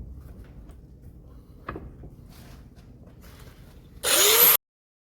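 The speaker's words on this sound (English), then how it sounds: "I'm going to take this to the bench grinder and clean up this end." Bench grinder briefly cleaning up a metal end, a short loud harsh whine near the end that stops abruptly after quiet shop handling noises.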